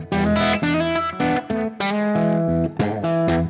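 A PRS electric guitar played through an amp, ringing sustained chords and notes in a run of distinct strums with clean gaps between them, loud and close, with no voices.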